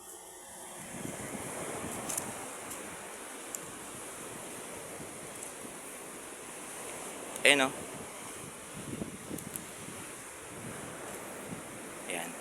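Surf rolls onto a nearby seashore with steady washing noise and some wind buffeting on the microphone, while someone speaks briefly and a sharp clatter cuts through midway.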